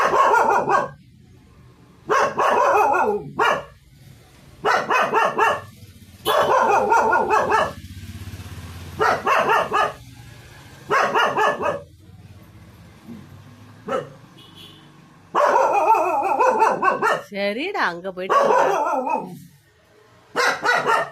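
Dogs bark in loud repeated bursts with quiet gaps between as dog catchers arrive, and a person speaks briefly among the barking.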